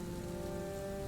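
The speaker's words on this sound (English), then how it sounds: "The rain outside created a soft percussion" Steady rain falling outside beside a Scottish loch at night, a dense, even hiss of drops on surfaces that continues without pause, moderately soft and unbroken, with no voices.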